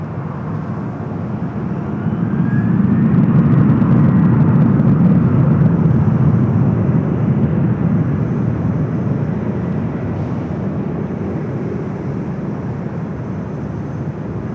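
Airliner taking off from runway 24 left at Los Angeles International Airport, a broad low jet roar that swells within a few seconds, holds steady and slowly eases, heard at a distance with no talk.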